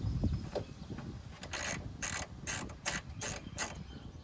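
A hand ratchet with a 10mm socket undoes the door check nut on a 1999-2006 Chevy Silverado or GMC Sierra door, clicking in about six quick, close, crisp strokes after a quiet start.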